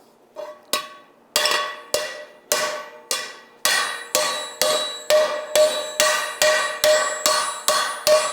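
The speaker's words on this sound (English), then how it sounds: "So we're going to go ahead and hammer this out now and make this round." Steady hammer blows ring out on a carbon steel skillet being forged round, about a dozen sharp metallic clangs in a regular rhythm that quickens slightly, each with a bright ringing decay, close and loud with no talk.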